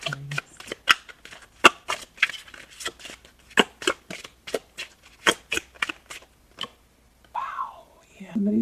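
Oracle cards for a tarot reading are shuffled in a run of crisp, rapid riffling bursts, close and fairly quiet, with short pauses between them and a soft voice near the end.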